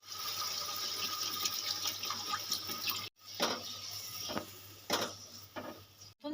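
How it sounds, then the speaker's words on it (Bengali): Water pours steadily into a katla fish korma curry in a pan, a continuous splashing stream with a brief break midway before it resumes. "এবারে দিয়ে দেবো পরিমাণ মতো জল"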